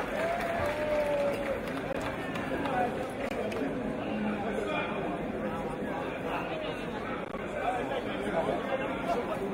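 A crowd at a book launch fundraiser in Ghana keeps up continuous applause mixed with loud chatter, a dense, unbroken wash of clapping and voices throughout.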